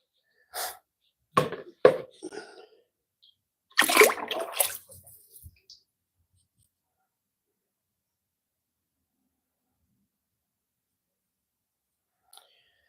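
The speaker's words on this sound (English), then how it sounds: "Well, I'll just pour some glaze in." Pottery glaze is poured into a pot in a few short sloshing, splashing bursts close by, followed by a long stretch of near silence.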